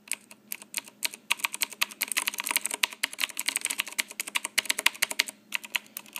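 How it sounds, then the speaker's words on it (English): Typing on a Rosewill RK-9000 mechanical keyboard with Cherry MX Blue switches, a rapid, uneven run of crisp, close clicks with brief pauses between bursts. "You can kind of hear the click."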